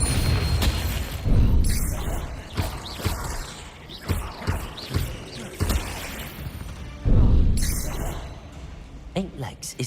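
Bombarda explosion spell and other spell effects in the video game Hogwarts Legacy, booming bursts and crashes scattered through the clip amid continuous talking.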